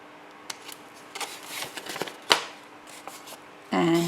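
Scrapbook paper being trimmed, a series of soft, scattered snips and paper rustles close by, one sharper cut in the middle, with a voice starting to speak at the end.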